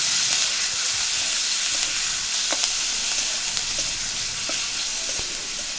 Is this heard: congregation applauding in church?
no